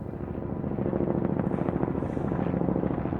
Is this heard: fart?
no